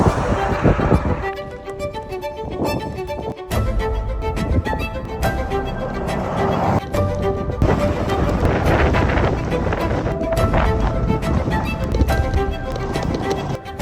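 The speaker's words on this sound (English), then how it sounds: "that wind was sketchy. It was a headwind and a crosswind." Strong headwind and crosswind buffet the microphone of a cyclist riding the Great Divide route near Steamboat Springs, a loud, constant roaring rumble with gusty surges throughout.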